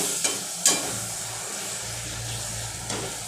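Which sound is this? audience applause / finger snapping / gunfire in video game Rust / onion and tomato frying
onion and tomato frying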